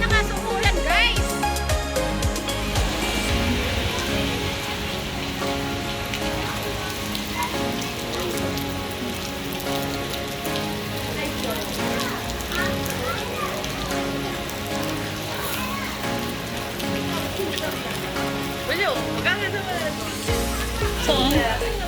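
Rain falls steadily outdoors at Sentosa, a constant patter under voices talking and bright tonal sounds throughout.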